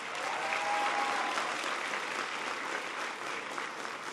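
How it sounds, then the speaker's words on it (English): Audience at an education and economy speech breaks into sustained applause, a dense, even wash of clapping from a large crowd, loud and steady throughout with no speech over it. "Give them a big round of applause."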